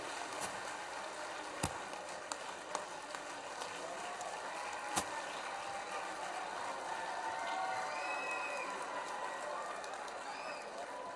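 A large crowd claps steadily and densely for a chief minister at a village birthday celebration in Jait, with a continuous wash of applause and a few sharp louder claps.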